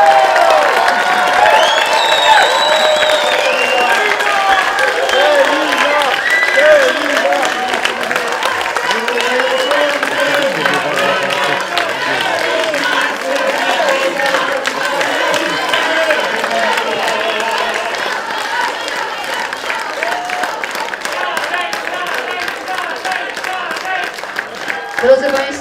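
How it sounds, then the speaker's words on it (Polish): An audience at a choir concert applauds its conductors with sustained clapping and cheering that stays loud throughout, mixed with crowd noise. "podziękujmy oklaskami naszym fantastycznym dyrygentom"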